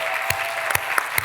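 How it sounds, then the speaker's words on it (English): Over a steady room hum at a conference, a few sharp, separate hand claps ring out at a slow, uneven pace, close and distinct rather than a full crowd. "I'm just going to applaud for you, Kristen, because..."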